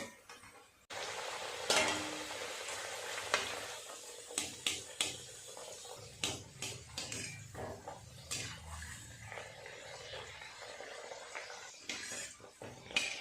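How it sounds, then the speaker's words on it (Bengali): Colored luchi fry in hot oil with a soft continuous sizzle, broken by frequent clinks and scrapes of a utensil against the pan, close and fairly quiet, with no talking. "একইভাবে সমস্ত ময়দাগুলো থেকে লুচিগুলো ভেজে নেব"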